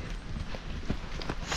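A horse ridden bareback on an outdoor trail, its hooves thudding in a quick, irregular rhythm on soft ground, close by and moderately loud against a rough background.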